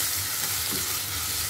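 Turmeric and salt stirred into a pan of sizzling masala for a tomato mutton gravy, a steady close frying hiss with a soft scraping stir throughout, no talk.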